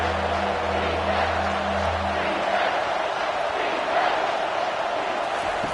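In the College Football 25 video game, a stadium crowd at South Carolina versus Alabama roars as a steady, dense wall of noise, with a low horn-like tone fading out early.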